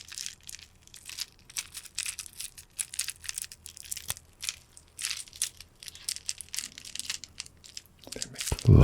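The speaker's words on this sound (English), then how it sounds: "Glass grapes." Decorative grapes that look like glass but are made of another material, crushed and handled close up in a quiet binaural setting, giving dense crinkly crunching and crackling with a louder handling burst at the end.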